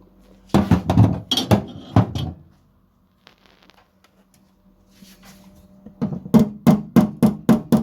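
Sharp metallic taps knock raised body metal down on a Rover P6 during lead loading, a burst of strikes near the start and a quicker run of evenly spaced taps at the end, loud and close with a quiet gap between.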